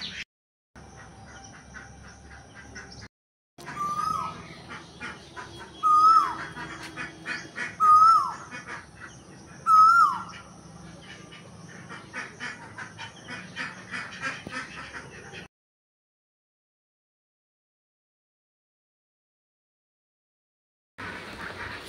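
Several ducks let out loud, close honking quacks in short bursts, separated by quieter stretches and a long silent gap. There is no talking.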